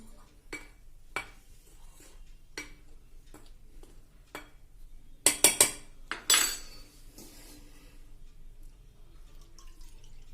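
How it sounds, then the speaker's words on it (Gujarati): A utensil taps and clinks against a bowl as salt and sugar are mixed into wheat flour, giving soft scattered knocks with a brief louder rattle partway through. "અત્યારે આ બધું મીઠું અને ખાંડ આપણે એકદમ મિક્સ કરી દેવાની છે"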